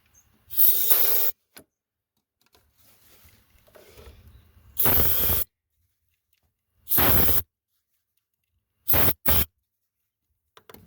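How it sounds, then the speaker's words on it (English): Ether starting fluid blasts into the open carburetor of a Polaris quad in several short bursts of loud, hissing spray, with quieter handling noises between them. "Get a nice shot of ether in there."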